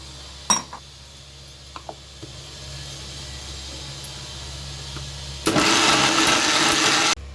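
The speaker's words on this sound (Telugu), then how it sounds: "అన్నీ వేసుకొని మిక్సీ పట్టుకుంటున్నాం" A few light clinks and taps, then a mixer grinder grinding masala with ginger, garlic and a little water whirs loudly for under two seconds before stopping abruptly.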